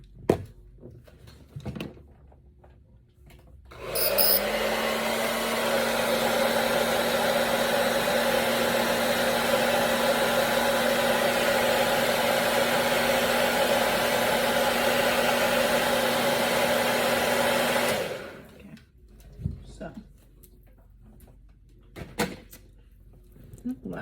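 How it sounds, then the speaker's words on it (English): A handheld blow dryer runs steadily for about fourteen seconds while styling a curly sew-in closure, a loud continuous whooshing hum that starts and stops abruptly, with faint handling sounds and quiet talk before and after. "then I'm gonna take my blow dryer"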